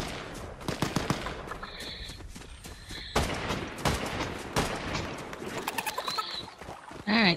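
Fortnite gunfire crackles in quick sharp bursts and single shots against game ambience with cooing birds, loud and close, ending in a final heavy blast.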